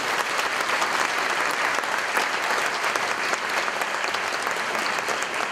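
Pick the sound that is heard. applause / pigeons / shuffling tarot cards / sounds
applause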